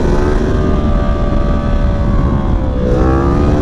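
A loud, modified Yamaha R1M motorcycle engine drones steadily close by, its pitch holding level and then rising near the end as it revs up.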